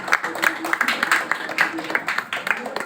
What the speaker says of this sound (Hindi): जोरदार ताली से बच्चों का जो है